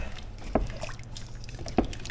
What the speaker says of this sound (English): Now I strain the water off these vegetables first because there's already lots of water in there.